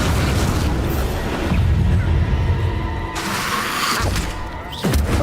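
A Confringo fire spell explodes in Hogwarts Legacy, a loud sustained roaring boom with crackling burst layers that rise and fall for several seconds amid other in-game spell effects.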